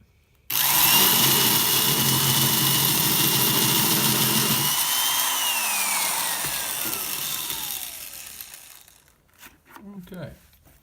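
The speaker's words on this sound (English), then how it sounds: "All right, drill test for number 1." A power drill bores into a cured block of refractory compound under test, a loud steady grinding whine that holds for several seconds, then slows, winds down and stops, with a few faint knocks at the end.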